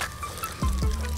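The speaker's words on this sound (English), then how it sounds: "just pour like a little bit of water on it" Small splash of water poured into a divot in wax-treated dirt, a couple of soft close-up pours and trickles that settle quickly against a quiet background.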